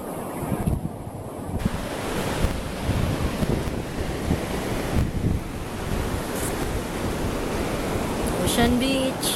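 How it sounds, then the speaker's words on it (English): Small ocean waves break as surf at Ocean Beach in San Francisco, a steady broadband wash with wind buffeting the microphone, continuous and close for several seconds with brief voices near the end. "These are just little waves."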